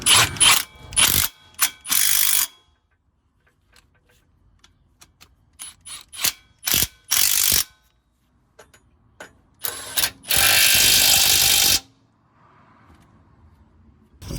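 Ratchet clicking in bursts while tightening the loose gearbox mount bolts on a 2013 Renault Megane MK3 1.5 diesel, several close, loud runs of rapid pawl clicks separated by pauses and a longer burst near the end.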